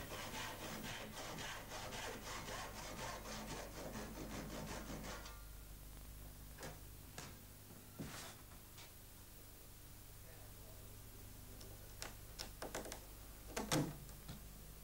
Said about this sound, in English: In addition to making cuts along the 2 edges of each joint, a third vertical cut is made in the center.